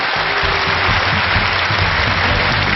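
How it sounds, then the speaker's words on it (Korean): Warm audience applause fills a Korean lecture hall, a dense, steady wash of clapping from many hands heard up close for a few seconds. "우리 세 분에게 다시 한번 따뜻한 박수 부탁드립니다"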